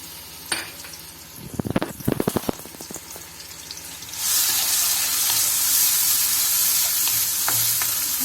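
Finely chopped tomatoes dropped into half a cup of hot oil in a kadai over medium flame: a few clattering scrapes, then a loud steady sizzle that takes over and holds, close and with no talking.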